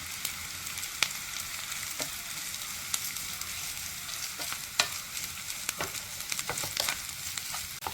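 Onion, grated coconut, dried red chillies and curry leaves fry in hot oil with a steady, dense sizzle, broken by occasional sharp clicks and scrapes of stirring.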